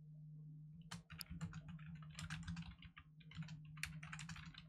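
Rapid typing on a computer keyboard, a dense run of close, crisp key clicks in uneven bursts over a faint steady background hum.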